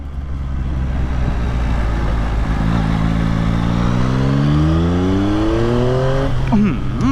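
A Yamaha MT-09 Y-AMT motorcycle with automated manual gearbox pulls hard, engine note climbing steadily through the revs before a sharp gearshift near the end, loud and close over wind rumble.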